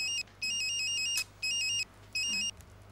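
A telephone rings in three short electronic trilling bursts during a TV comedy sketch on Susana Giménez's show, clear and moderately loud over a faint low hum.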